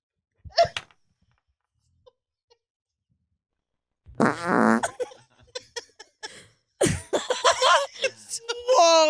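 A short, sharp fart bursts out near a podcast microphone, followed after a pause by people reacting with laughter and talking.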